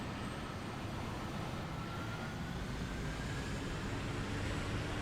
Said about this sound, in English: We're gonna go ahead, start engine.